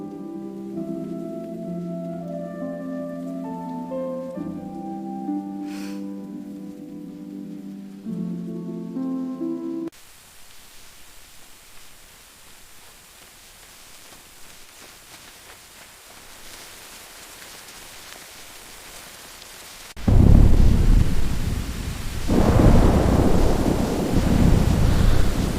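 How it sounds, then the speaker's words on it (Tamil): Rain arrives over an Indian village. Melodic tones play first, then a quieter hiss, and finally a loud, close roar of heavy rain and gusting wind fills the last few seconds. "மழை வருது."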